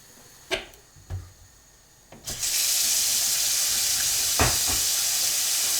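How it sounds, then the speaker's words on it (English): Hot water gushes from a sink tap while home-brewing a stout. A few sharp clicks and knocks come first, then a loud, steady rush of running water continues alone. "I'm going to go to the sink and I'm going to put some hot water in"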